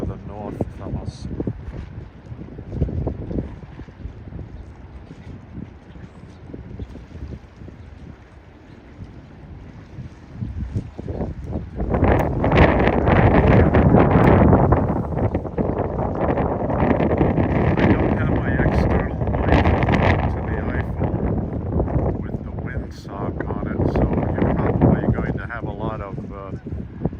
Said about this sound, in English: Background wind noise.